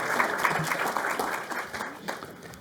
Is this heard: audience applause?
yes